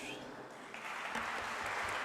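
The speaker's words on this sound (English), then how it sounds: "Indeed, a big round of applause." At an endowment lecture event, an audience's applause swells after a brief pause into a steady, moderately faint patter of many hands, with some speech-like sound underneath.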